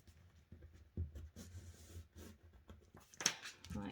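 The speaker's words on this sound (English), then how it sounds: "just use your fingernail where you bone fold it and smooth down those creases" A fingernail rubs and smooths down creases in folded paper while making a paper ephemera piece, giving soft scraping and brushing strokes with a brief sharper scratch near the end, close and fairly quiet.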